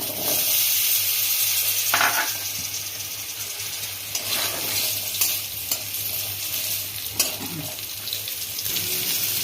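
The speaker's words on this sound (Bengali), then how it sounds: "এরপরে ওই তেলে আমি আলুগুলো একটু ভেজে নেব" Potatoes frying in oil left over from frying tilapia, a steady loud sizzle with occasional stirring scrapes and clatters throughout, no talking.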